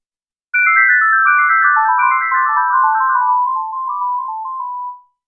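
A synth sine lead plays a fast descending run of bright tones, each note echoing back and forth through a ping pong delay, in a keyboard solo; loud and alone, thinning out toward a single fading note.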